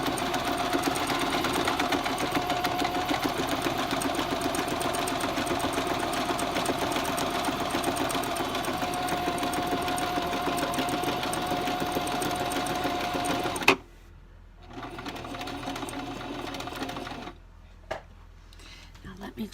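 A sewing machine runs steadily, stitching with a fast even whir for most of the stretch, then stops abruptly and leaves a quieter room with brief rustles and a short restart.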